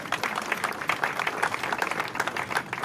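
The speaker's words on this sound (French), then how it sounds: "de bien vouloir applaudir pour celles que nous sommes en train de pleurer en ces jours" Mourners at a graveside memorial applaud for the deceased, a moderately loud crowd of clapping hands with uneven, scattered rhythm that holds steady from start to finish.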